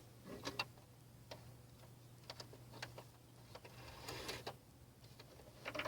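Home sewing machine needle dropping into fabric at a quilt corner, heard as faint, sparse mechanical ticks and clicks over a steady low hum, with no talking.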